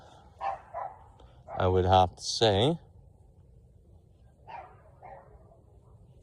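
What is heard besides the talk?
dog barking in the background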